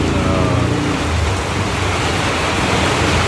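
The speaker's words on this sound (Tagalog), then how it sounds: "Lakas ng ulan." Heavy rain pours down at a house in a dense, loud, unbroken hiss that fills the whole stretch, with no voices audible over it.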